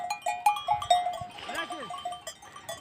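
A sheep bleats once nearby amid repeated clanking livestock bells, with more animal sounds around a farm.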